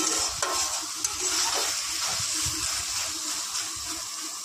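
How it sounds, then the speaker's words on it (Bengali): Green leafy vegetables (shak bhaja) frying in a pan give a steady, close sizzle and hiss, with soft stirring scrapes and taps scattered throughout and no talking. "সবুজ শাক ভাজা।"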